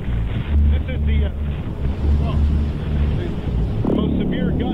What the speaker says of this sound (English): most severe gust as it's pushing through